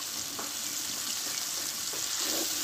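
Cashew paste stirred into a masala frying in a pan, a soft continuous hiss of sizzling oil with a couple of faint stirring scrapes, close and fairly quiet, no voices.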